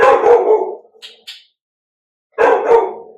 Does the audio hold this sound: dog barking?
yes